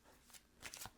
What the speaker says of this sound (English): so many people like to see me shuffling